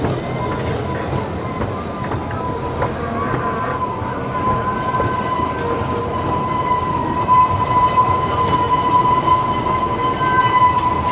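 The Pleasure Beach Express ride train at Blackpool Pleasure Beach rumbles along its track, a loud, steady close-up clatter and roll with a faint whine that lasts throughout.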